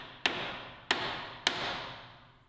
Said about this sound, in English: Now, gently tap on the end of the block in the direction it needs to move.